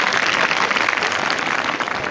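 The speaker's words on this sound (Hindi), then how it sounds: "बहुत ज़ोरदार तालियां बजा लो अपने लिए।" Group of students clapping for themselves during a motivational session, a brief, dense burst of applause that stays steady and fairly loud from start to finish.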